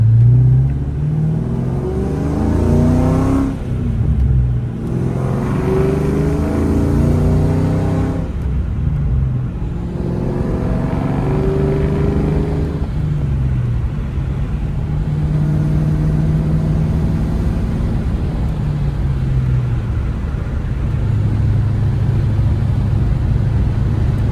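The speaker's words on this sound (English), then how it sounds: "That performance exhaust really sounds good." A 1994 Ford Mustang GT with a 5.0L HO V8 and performance exhaust rumbles steadily while driving, its deep note rising and falling with throttle and gear changes for the whole stretch.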